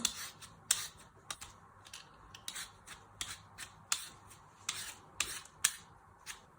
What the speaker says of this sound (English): Be careful you don't cut yourself on your peeler. So you just keep moving it around.